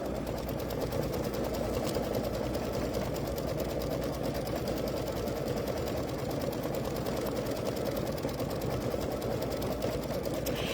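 An embroidery machine stitches frilly details in brown thread on a pumpkin potholder, giving a steady, fast mechanical whirring and rapid needle chatter that runs evenly from start to finish without talk.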